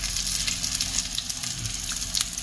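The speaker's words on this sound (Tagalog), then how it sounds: "Ayun, ating piniprito." Food frying in hot cooking oil, a dense, continuous crackling sizzle with sharp pops, loud and close, no voices.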